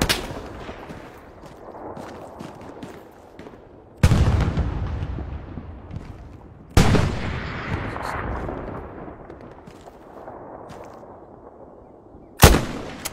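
Gunfire in a mobile war video game: four loud, sharp blasts, each trailing off in a long booming decay, with a low rumble between shots and no talking.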